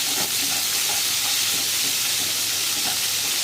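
Pieces of rohu fish fry in a pan just after being flipped, with a loud, continuous sizzle and dense crackling oil throughout.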